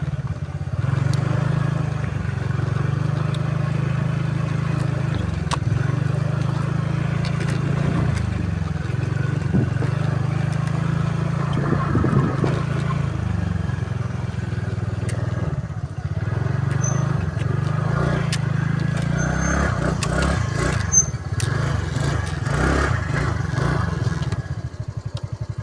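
A scooter engine runs steadily and up close for the whole stretch on a village road in West Sikkim, with a constant low drone and small rises and dips in pitch as the speed changes.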